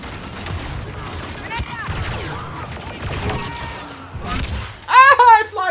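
Gunfire in the Star Wars Battlefront 2 video game, scattered blaster shots and impacts amid busy battle noise, ending in a louder burst of sharp effects, with a player talking over it.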